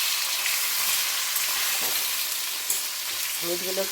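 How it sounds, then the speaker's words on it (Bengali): Potatoes fry with turmeric and salt in a pan, a dense, even sizzle that stays loud and close throughout, with a faint clink near the end and no voices. "আর এখানে দেখো আমি একটু আলুগুলো হলুদ দিয়ে নুন দিয়ে ভেজে নিচ্ছি"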